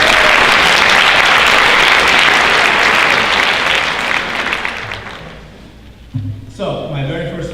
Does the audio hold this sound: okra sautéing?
no